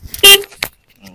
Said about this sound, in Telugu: ఒకసారి హారన్ కొట్టు చూద్దాం ఎట్లా వస్తుంది హారన్.